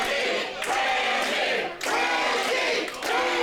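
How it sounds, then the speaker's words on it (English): Wrestling crowd at a PWA event roaring and cheering before a match, a dense, loud, sustained wall of voices with brief dips in intensity. "And the crowd is fired up for this match."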